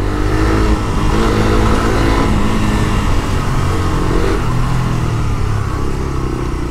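A Suzuki Gixxer 150 (GSX-R150) motorcycle ridden in the morning, its mid-pitched engine droning loud and close throughout with small rises and falls of revs, wind noise over it and no voices.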